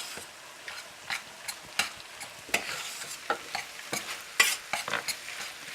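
Macaroni and cheese mixture made with melted Velveeta stirred in a pot, with repeated close scraping and sticky, wet swishes in an uneven rhythm, and no voices.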